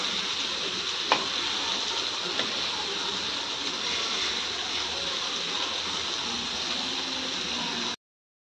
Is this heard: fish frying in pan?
yes